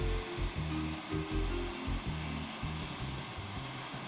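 A Hothead torch flame roars steadily while a dichroic glass bead is heated and shaped for lampwork, the soft, even hiss punctuated by faint low knocks and shifts near the microphone.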